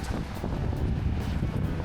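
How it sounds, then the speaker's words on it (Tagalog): Steady wind roaring and buffeting against the microphone, a dense low rumble with gusty swells throughout and no voices. "Hangin."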